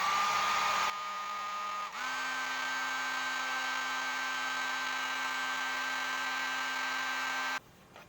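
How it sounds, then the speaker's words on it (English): A heat gun blows with a steady whine and airy rush for about eight seconds, drying a piece lightly sprinkled with salt; the motor pitch steps up briefly, and the sound stays close and continuous with no talking. "Now I'll dry it with my heat gun."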